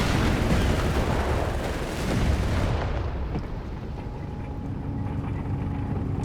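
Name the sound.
Panzer tanks firing in video game Company of Heroes 3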